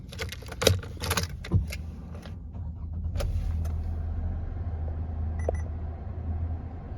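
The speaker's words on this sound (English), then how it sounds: "Now I'm just going to start the car up." A 2018 Hyundai Tucson Active X 2WD is started from inside the cabin: a few clicks and key jangles, then the engine catches and settles into a steady low idle, with a brief beep near the end.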